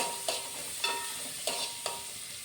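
The white parts of spring onions fry in a pan for chicken fried rice, a soft steady sizzle broken by four stirring scrapes at regular intervals.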